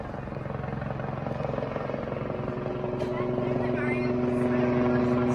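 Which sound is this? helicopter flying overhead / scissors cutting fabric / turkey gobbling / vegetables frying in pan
helicopter flying overhead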